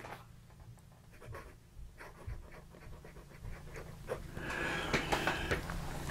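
A Yongsheng 9130 fountain pen with a fine nib scratches across paper in short strokes, a quiet, close, dry rasp that grows steadier and slightly louder toward the end, with no voices.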